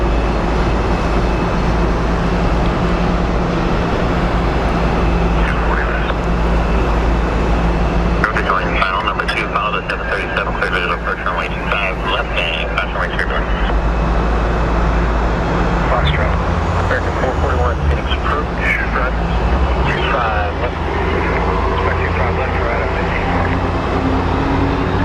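An MD jet airliner approaches Sky Harbor Airport with a steady, loud, broadband engine roar that holds for the whole stretch, swelling slightly in the middle, with traffic-like rumble beneath it.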